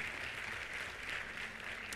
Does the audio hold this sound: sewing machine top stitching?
no